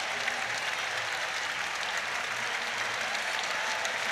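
A packed stadium at a World University Games athletics meet in Rhine-Ruhr claps for the gold-medal race winner, a thick, continuous wall of applause heard from a distance that holds steady without a break.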